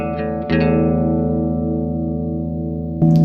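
Clean electric guitar run through a Boss Super Chorus CH-1 pedal: a sustained, shimmering chord rings steadily for about three seconds, then a fresh strum enters at the end, with no talking.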